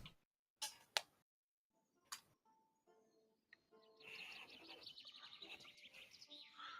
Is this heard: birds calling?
yes